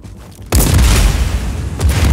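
A loud, close explosion from the video game Just Cause 4 bursts suddenly and rumbles with heavy low-end roar and debris crackle, sustained for about a second and a half with a second swell near the end.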